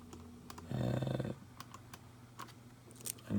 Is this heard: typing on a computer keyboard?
yes